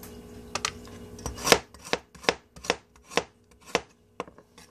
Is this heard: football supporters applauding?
no